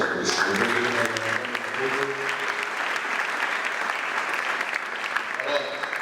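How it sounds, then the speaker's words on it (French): Church congregation at a Sunday worship service applauding and cheering loudly and steadily throughout, with a dense wash of clapping and some voices rising over it. "Est-ce qu'on peut acclamer très fort pour ça?"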